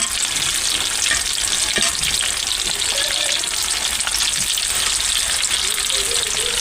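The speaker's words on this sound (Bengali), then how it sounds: "তো বন্ধুরা দেখো, এখন সব ভেজে নিচ্ছি একটা একটা করে।" Chicken leg pieces deep-frying in hot oil for chilli chicken, a loud, steady, close crackling sizzle without a break.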